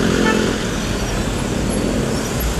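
Road traffic on a rainy day, with a continuous loud rumble of passing cars and motor vehicles close by and no clear talk.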